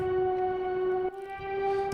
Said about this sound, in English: some flute kind of sound from Contact